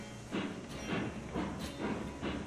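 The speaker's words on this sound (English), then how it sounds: "This train is great. I love this little mixed consist we have going on." A train in Railroads Online, a mixed consist of cars, chuffs in a steady rhythmic pattern of hissing steam bursts with rail noise, moderately close and without talk.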